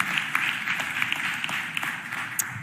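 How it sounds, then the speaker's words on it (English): A crowd gives a steady round of applause during the Philadelphia mayor's budget address, a dense, even patter of clapping from a large room that carries on without pause. "Give a round of applause."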